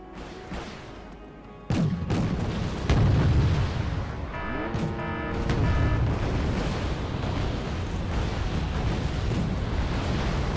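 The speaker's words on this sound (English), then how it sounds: "Oh, these cluster bombs!" Cluster bombs and rockets explode in the Wargame Red Dragon video game, a heavy rumbling barrage of booms and crashes that starts with a sharp blast and rolls on continuously as a loud, dense wall of detonations.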